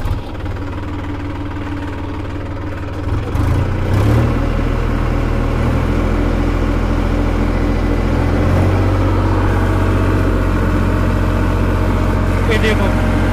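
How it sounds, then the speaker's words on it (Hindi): Tractor engine running with a rotavator attached, a loud throbbing idle that rises in pitch and load after a few seconds, with knocking vibration and someone talking over it. "तो गाइस अब मैं आपको रोटावेटर इस वाले रोटावेटर में चला के बताता हूँ ट्रैक्टर को।"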